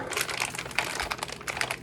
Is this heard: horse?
no